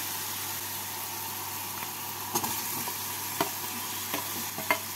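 Fried potato and coconut stirred into a spice masala in a pan for soybean ghugni, a steady low sizzle with occasional spatula scrapes and clinks against the pan.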